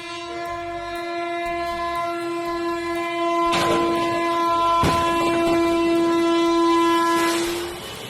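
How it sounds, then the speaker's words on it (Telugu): A train at a level crossing sounds a long, loud horn while striking a lorry stuck on the tracks. Two sharp crashing bursts break through the sustained blare before it fades near the end. "లారీని గుద్దుకుంటా పోయింది కదా రైలు బండి, అవు తుక్కు తుక్కు అయిపోయింది"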